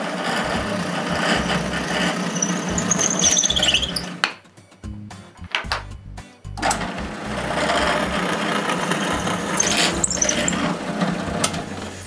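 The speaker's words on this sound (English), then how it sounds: "drill the pivot hole on the two pivot blocks" A drill boring pivot holes through wooden pivot blocks for a wooden jointer's motor mount, a loud steady whirring motor running close with a brief drop in the middle before resuming.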